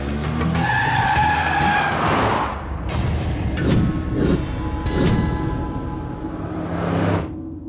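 A car skids and pulls away with tyres squealing and engine roaring loudly up close, the screech holding steady for several seconds before fading off.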